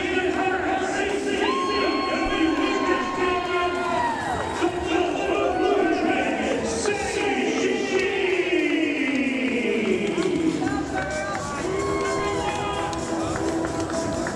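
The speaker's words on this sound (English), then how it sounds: "The crowd is on their feet for the champion." A wrestling arena crowd cheers for the champion, with loud, sustained shouting, whooping and rising calls over a busy roar, while voices talk and call out through the noise.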